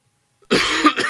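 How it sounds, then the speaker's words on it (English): A single loud, close cough bursts out after near silence from someone getting over a cold. "Someone needs a cough button."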